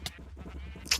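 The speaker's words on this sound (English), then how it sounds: "Okay, so now it should start to kill the sheep." Sheep bleating inside a mob grinder in Minecraft, two short bleats opening and closing a quiet one-second stretch over a low hum.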